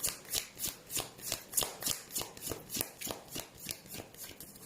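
Tarot cards being riffle-shuffled close up, a steady run of about a dozen quick papery flutters in an even rhythm, with no one speaking.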